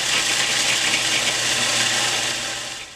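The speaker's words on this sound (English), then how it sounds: "Put the top on that and blend at low speed." Food processor whirring steadily at low speed as it blends garlic scapes, basil and nuts into pesto, a loud close continuous grinding drone that eases off near the end.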